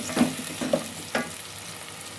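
Curry fries in a pan while being stirred, a soft steady sizzle broken by three distinct scraping stirs spaced about half a second apart, close and moderate in level.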